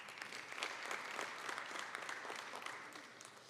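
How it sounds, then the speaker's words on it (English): Steady applause from an audience at a community town hall on schools, greeting the NAACP president, a dense wash of many hands clapping at moderate distance, even and sustained throughout without voices. "If you could give her a round of applause."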